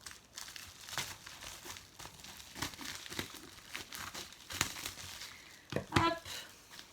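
Scissors snipping open a large plastic bag during a diamond painting kit unboxing, with faint crinkling and a few soft cuts, then a sharper crunch near the end.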